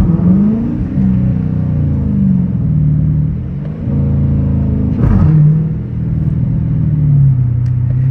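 Tuned Dodge Challenger R/T engine revving loudly through gear changes, a deep rising roar that drops at each shift with a sharp pop, close and continuous.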